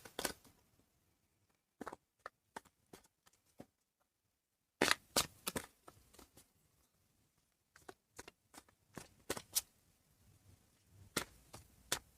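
Oracle cards are shuffled in quiet bursts of sharp papery snaps and riffles, with short gaps, then a denser run of flicks close by.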